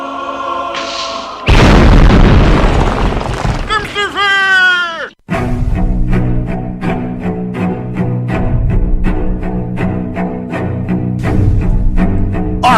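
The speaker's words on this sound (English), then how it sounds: "bring up the holy hand grenade" Holy hand grenade explosion sound effect: a loud booming blast after a short lead-in, followed by ringing tones, then a steady rhythmic music bed with a voice over it.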